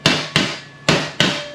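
Four sharp hammer blows flatten the bolt holes of a 1968 Torqueflite transmission pan laid on a table edge, evenly spaced and loud metallic strikes with short ringing decay.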